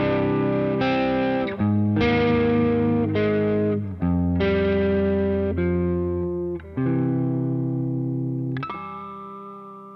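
A descending run of synth scale tones starting from D, played on a chord_files demo. Each sustained, buzzy, effect-laden note steps lower in turn, about eight in all, loud and alone with a soft reverb tail.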